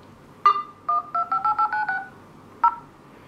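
Keypad tones from a OnePlus One phone dialer on speakerphone, a quick run of about ten short beeps in an uneven rhythm, fairly clear and alone.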